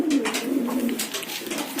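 Pigeons coo steadily and close by, soft repeated low throaty calls layered over one another, with no talking.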